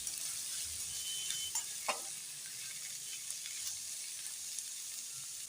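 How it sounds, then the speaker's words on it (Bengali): Sliced onions sizzle steadily in hot oil in a pan with whole garam masala (cardamom, cloves, cinnamon), salt and a little sugar while a mutton dish with potol is cooked, a continuous soft hiss with a few faint clinks and no talking. "পেঁয়াজটা আমার হালকা ভাজা হয়ে গেছে"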